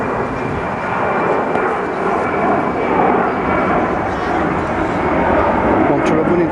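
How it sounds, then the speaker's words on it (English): An airplane departing Manchester airport passes overhead at a football pitch as a broad, loud engine roar that swells and holds steadily, while voices talk over it. "There's yet another airplane leaves Manchester."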